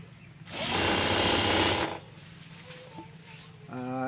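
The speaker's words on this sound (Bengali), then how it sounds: "একদম ধার দিয়ে সেলাই দেবে।" A sewing machine stitches along the edge of a saree in one loud, steady mechanical burst of about a second and a half, then stops, leaving quiet room tone and a brief voice at the end.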